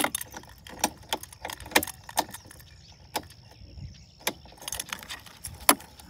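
Keys jangle as the key goes into an NK e-bike GTR+, with a series of sharp metallic clinks and rattles at irregular intervals, close by and otherwise quiet.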